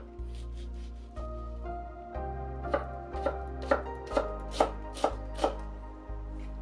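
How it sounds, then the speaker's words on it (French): Knife finely chopping a shallot on a cutting board, a steady series of crisp, evenly spaced taps that grow sharper and louder midway, heard close and alone with no talking. "Ciselez une échalote."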